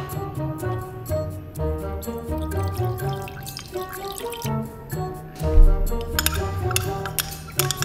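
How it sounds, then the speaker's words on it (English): Liquid is poured into a container while cleaning a yoyo bearing, giving a run of close drips and trickling splashes with ringing, resonant tones that shift as it fills. "All right, pour some of that in there."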